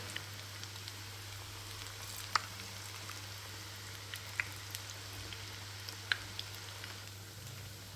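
Cornflour and spring onion pakodi fry in hot oil with a quiet, continuous sizzling hiss, broken by occasional sharp crackles and pops, all fairly faint and with no voices.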